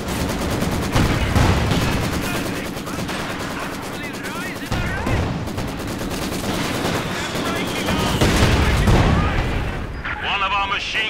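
Machine gun fire and explosions in a Company of Heroes 2 Stalingrad bridge defense battle, with dense overlapping bursts, heavy booms and continuous loud combat noise, and voices speaking over the gunfire.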